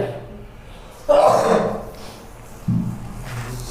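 A single harsh cough bursts out, followed by a short throaty sound, with quiet room tone in between.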